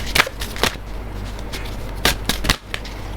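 Oracle cards shuffled in a deck, a few sharp riffling bursts and snaps spaced across a few seconds, close and fairly loud over a quiet room.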